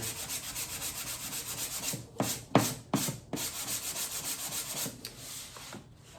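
Wood is hand-sanded along the grain with 220-grit sandpaper in steady, scratchy back-and-forth strokes. A few sharper rubs and short pauses break the middle of the passage, and no one speaks.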